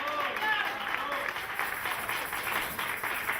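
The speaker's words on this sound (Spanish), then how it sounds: "Que se escuche ese aplauso." Church congregation applauding during a Spanish-language service, a dense continuous wash of clapping throughout with a voice sounding over it.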